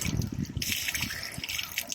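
Fresh spring water pours and splashes from the pipe of a hand-pumped water well at a ranch, a close, steady gushing and trickling with no talk.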